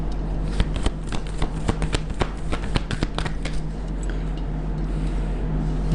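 Tarot cards shuffled by hand for a reading, a steady run of crisp riffling flicks close to the microphone over a constant low hum, with no talking.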